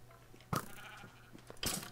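A video game sheep gives two short bleats about a second apart, close and fairly faint.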